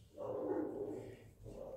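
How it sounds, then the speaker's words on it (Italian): A dog barks at other dogs out on the street, a single drawn-out muffled bark from nearby indoors, followed by a shorter second one, with no talk. "Adesso qua il cane abbaia"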